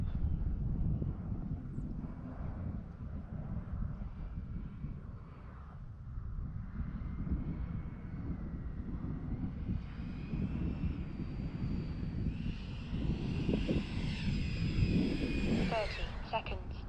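A Freewing L-39 RC model jet lands, its electric ducted-fan whine rising in pitch toward the end over wind rumble, with someone talking over it.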